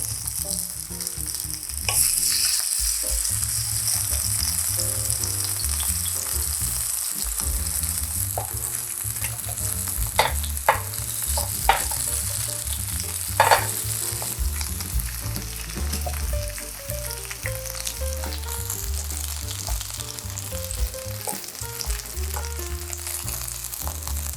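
Chive pancake batter sizzles steadily in a hot frying pan, a constant crackling hiss with occasional sharp pops and light scraping, close and moderately loud.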